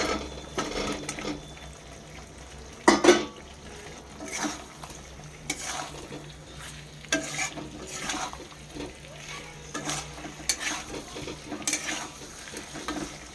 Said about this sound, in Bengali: আলু অ্যাড করা হচ্ছে